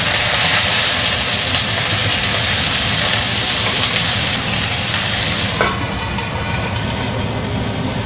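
A handful of garlic with green and red chilies fries in hot oil, giving a loud, close, steady sizzle and hiss that eases slightly toward the end, with a faint clink partway through.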